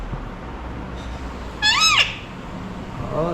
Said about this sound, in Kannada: ಹಾಗೆ ಈ ಮನೆ ಒಳಗಡೆ ಒಂದು ಗಿಳಿನೂ ಸಾಕೊಂಡಿದ್ದಾರೆ ನೋಡಿ,